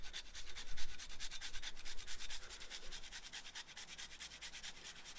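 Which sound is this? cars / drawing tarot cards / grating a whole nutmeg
grating a whole nutmeg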